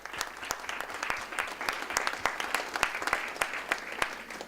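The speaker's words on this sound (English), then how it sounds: "Can we give a round of applause?" An audience at a transport conference panel applauds, a dense round of clapping with sharp individual claps standing out, steady throughout.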